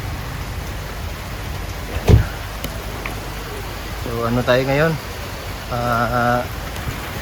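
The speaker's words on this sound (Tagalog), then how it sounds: "So ayan mga idol, umuulan pa." Rain falls steadily as a broad hiss on the way to an outdoor rally, with a sharp knock partway through and someone talking briefly over the downpour.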